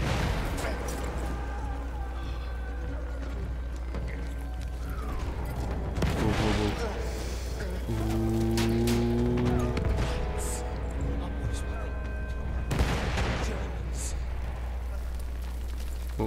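Battlefield 1 gunfire: heavy bursts and booms of wartime weapons crack out at intervals over a steady low rumble and in-game mechanical sounds, with a voice talking over parts of the action.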